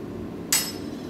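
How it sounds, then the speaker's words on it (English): A single sharp hammer strike rings on hot steel being drawn into a taper, one bright clink standing out from a low steady background hum. "Last little bit, hammer finish"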